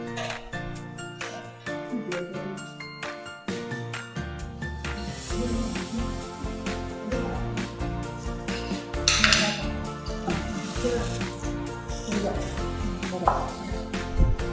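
Spoon clatters and scrapes against a pan as food is stirred during a vegan cooking demonstration with a blended spice paste of salt and sugar, a steady busy clinking that continues throughout amid other kitchen sounds.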